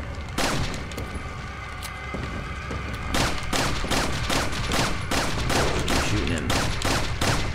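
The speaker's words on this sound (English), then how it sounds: "Keep shooting it." Rapid bursts of gunfire from the video game Resident Evil 4, loud and sustained with dense repeated shots that intensify after a few seconds, with a faint voice underneath.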